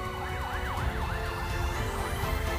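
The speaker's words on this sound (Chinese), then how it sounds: "救护车呼啸着驶出事发地" An ambulance siren wails in steady rising and falling sweeps as the vehicle races away from an emergency scene, loud and fairly close over a bed of traffic rumble and road noise.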